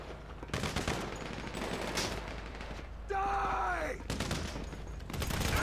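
Gunfire in the video game GTA 5 comes in dense bursts of rapid shots, loud and close, with a short tonal in-game sound in the middle before the firing resumes.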